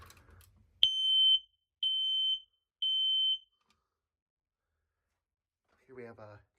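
A Kidde i9040 ionization smoke alarm during a test, three loud, piercing high-pitched beeps in a steady rhythm, each about half a second long with short gaps, followed by silence and then a brief voice.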